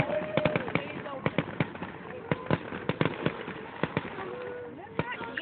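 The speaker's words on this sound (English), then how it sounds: "Now watch the fireworks." Fireworks exploding in the distance as a scattered series of sharp cracks and pops over a crowd murmur, with people talking throughout.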